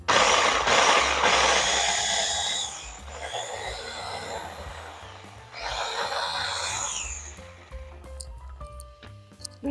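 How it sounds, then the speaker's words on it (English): A food processor pulses onion for fresh tomato salsa, a whirring motor in bursts separated by short pauses, ending with clicks and handling sounds of the machine. "We're ready to pulse in the processor."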